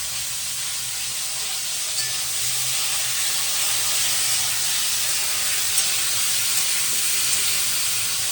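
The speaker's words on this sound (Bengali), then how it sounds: "এখন আলু ফুলকপি ভাজা চলছে" Potatoes and cauliflower fry in a pan, giving a steady, even sizzling hiss that holds at the same level for the whole stretch with no talking over it.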